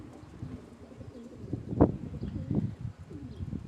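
Pigeons coo softly nearby in a loft, giving several low, throaty, rolling calls over faint background rustling.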